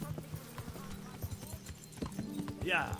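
Horse hooves clip-clop steadily through the medieval world of Kingdom Come: Deliverance, a quick rhythmic patter of steps near the listener with a brief whinny-like tone near the end.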